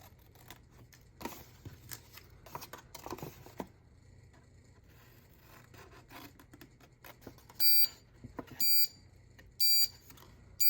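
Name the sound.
timer alarm going off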